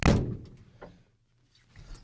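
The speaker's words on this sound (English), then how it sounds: "close the door now and make sure this is going to function the way it's supposed to" A VW Beetle car door swings shut with one solid, close thunk, followed by near silence and a faint rattle.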